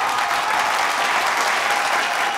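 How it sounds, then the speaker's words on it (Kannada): A studio audience on a televised mothers' reality game show bursts into loud, dense applause, a continuous even roar of clapping with no pauses. "ಬರ್ರಿ ಜೋರ ಚಪ್ಪಾಳೆ"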